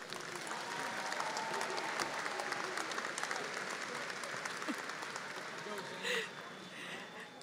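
University commencement audience gives a sustained round of applause for graduates, with a steady wash of clapping that thins slightly near the end as a voice is briefly heard.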